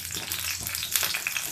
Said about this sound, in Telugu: అదే మూగుట్లండి, పచ్చిమిరపకాయలు వేసి వేయించండి.